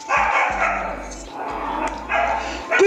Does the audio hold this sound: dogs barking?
yes